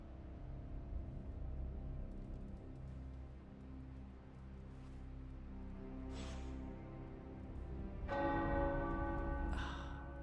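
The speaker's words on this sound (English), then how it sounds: "The tower bells are ringing." Tower church bells toll softly at a distance over a steady low rumble in the video game Marvel's Midnight Suns, with a few brighter strikes rising near the end.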